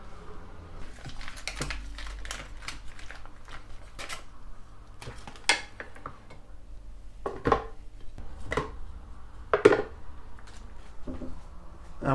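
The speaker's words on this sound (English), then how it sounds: "then what you want to do is get your butter and put it in a blender" Butter, about 500 grams for a wild garlic butter, is put into a kitchen blender, giving scattered soft thuds, scrapes and light clinks of utensils against the container at close range, quiet and irregular.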